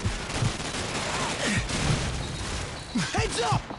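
Gunfire and explosions from the video game Call of Duty 4 Modern Warfare rumble continuously at moderate loudness, with scattered voices calling out over the battle.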